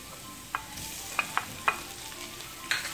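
Butter for garlic buttered shrimp sizzles softly in a pan under a steady frying hiss, with a few sharp clicks of stirring utensils scattered through and no talking.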